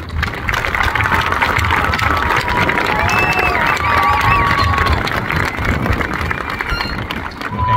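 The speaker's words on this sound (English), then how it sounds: "Can we please give a round of applause for these amazing individuals?" A large crowd at a class of 2024 graduation applauds and cheers continuously, a dense wash of clapping with a steady low rumble beneath and scattered whistles rising above.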